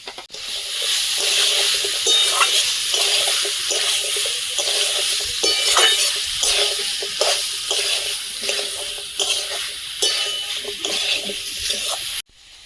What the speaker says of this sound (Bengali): চিকেন আর আলুটা ভালোভাবে ভেজে নিয়েছি